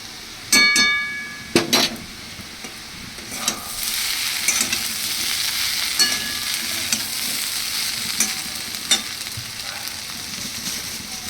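Potatoes sizzle steadily in a pan as whole poppy seeds are sprinkled in, with a constant frying hiss broken by several sharp scrapes and clinks of a spoon stirring against the pan.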